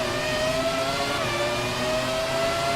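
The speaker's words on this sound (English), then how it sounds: "Listen to these engines. They sound absolutely incredible." Formula 1 cars in the F1 2017 video game scream off the line at a race start, a dense, sustained chorus of high-revving engines with pitch sweeping as they accelerate, loud and steady with no speech.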